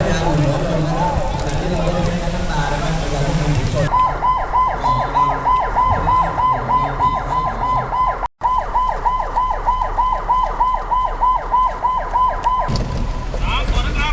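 A Thai police hospital ambulance siren wails loud and close in a steady rapid cycle for about nine seconds, rising out of crowd noise and voices before cutting off.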